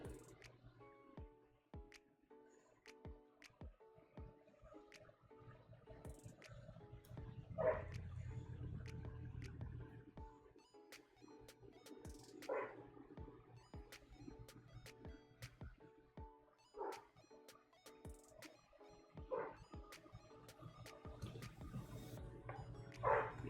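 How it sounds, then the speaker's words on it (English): A dog barks indoors somewhere in the room during a home crochet livestream: several short, scattered barks spaced a few seconds apart, moderately distant and fairly quiet over a low steady background hum. "My dog is barking, sorry about that"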